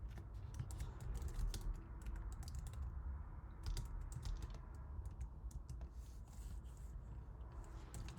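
Steady, quiet typing on a computer keyboard as a problem description is entered, a continuous patter of soft key clicks with brief pauses, close and alone.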